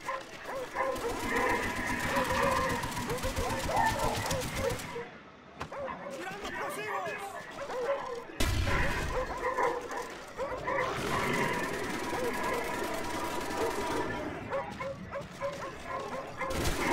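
Dogs in Call of Duty Black Ops on the Wii barking and yipping repeatedly, with a short lull midway and busy game noise and speech throughout.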